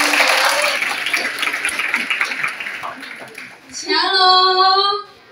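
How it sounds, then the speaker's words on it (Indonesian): Applause and cheering from a school congregation at a student council worship service in Manokwari, a dense crowd clap that fades, then a sung or shouted group response rises near the end. "Tepuk tangan buat Tuhan Yesus."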